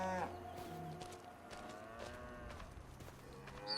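Cattle lowing in Farming Simulator 25 on the Castilla y León map, with several overlapping moos from the herd sounding steadily through the clip over a soft ambient farm background, no talking.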